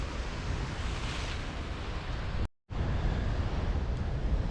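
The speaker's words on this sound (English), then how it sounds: "the way the waves come into these little channels. They often come flying up in the air" Ocean surf washing into small rocky channels on the Scottish coast, a steady loud roar of churning water mixed with wind buffeting the microphone, broken by a brief dropout before the rush resumes.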